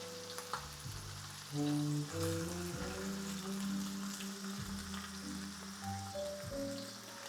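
Steak sears in a hot cast iron pan on high heat, giving a continuous soft sizzle and crackle under jazz music playing throughout.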